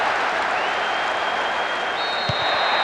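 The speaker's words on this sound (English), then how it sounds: "The crowd who were biting their nails only a moment ago, they're going wild." A stadium crowd in the PES 2008 football video game roars after an equalising goal, a loud continuous cheer with a rising whistle-like tone over it and a few low thumps near the end.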